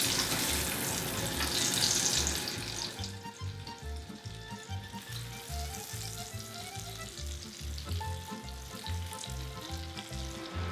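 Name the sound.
chips frying in olive oil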